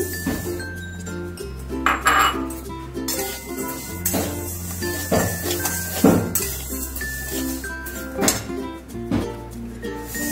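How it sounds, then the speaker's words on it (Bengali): Moong dal fries in a pan while a spoon stirs it continuously, producing repeated metallic clinks and scrapes against the pan. Steady background music plays underneath. "আমি প্রথমে ডালটাকে ভেজে নিচ্ছি।"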